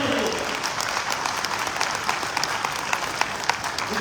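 A seminar audience bursts into dense, sustained applause, a steady wash of many hands clapping together at close range for the whole stretch.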